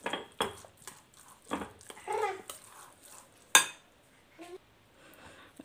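Curd rice mixed with mustard and cardamom powder in a bowl produces soft scraping and clinking of a utensil, irregular and close, with sparse speech-like sounds in the background.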